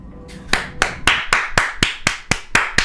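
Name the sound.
round of applause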